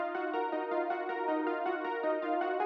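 Serum synth with the SY Big Sleepy preset plays a melody, a bright, sustained tone that pulses in a steady repeating rhythm of short, evenly spaced notes, clean and alone.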